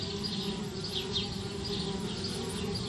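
Bees swarm at a treehouse in the video game Anna's Quest with a constant dense buzzing drone that holds steady and close, and no one speaks.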